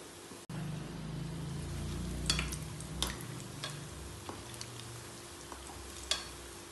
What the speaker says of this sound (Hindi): तो चलिए, इसे धीमी आंच पर ही भूनते हैं, फ्राई करते हैं।